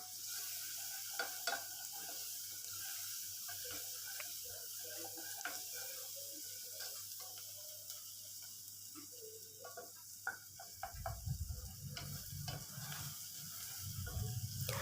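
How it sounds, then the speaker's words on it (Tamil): Ginger garlic paste sautéing in a pan for masala oats, a continuous soft sizzle with scraping stirs from a spatula, close and steady; a low rumble joins in the final seconds. "இஞ்சி பூண்டு பேஸ்ட் பச்சை வாசம் போகிற வரைக்கும் வதக்கி விட்டுக்கலாம்"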